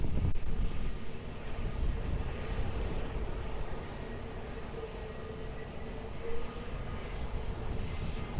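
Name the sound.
airplane approaching Lisbon Airport runway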